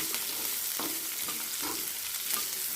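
White sesame seeds frying in a hot pan, a steady close sizzle with soft crackles and occasional stirring scrapes, no talk.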